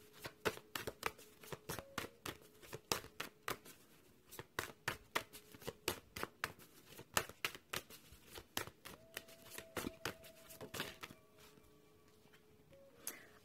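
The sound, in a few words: shuffling cards for a card reading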